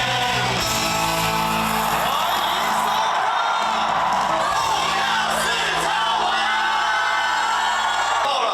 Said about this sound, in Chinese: 应该叫吼叫声，因为现场出来的都是吼